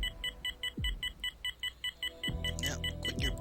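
Steady, evenly spaced electronic beeps pulse from a surgery video game, about ten in a row, with a couple of low sweeping tones and a busier burst of bleeps near the end.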